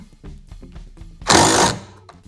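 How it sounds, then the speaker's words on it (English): A 15mm socket wrench reinstalls the rear cage bars on a Can-Am Maverick Sport/Trail, with light mechanical clicks followed by one short, loud burst of ratcheting up close. "you'll just need to reinstall these rear cage bars with your 15mm socket."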